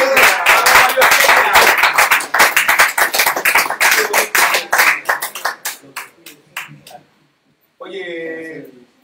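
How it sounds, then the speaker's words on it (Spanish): Studio audience applause on a Spanish-language circus-themed TV variety show, dense clapping at first that thins into scattered claps and fades out, followed by a brief voice speaking after a pause. "¡Demos un aplauso!"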